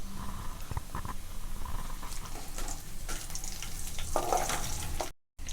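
Dried chili and curry leaves frying in hot oil, giving a steady close crackling sizzle with a few brief stirring clinks, ending in a short gap of silence.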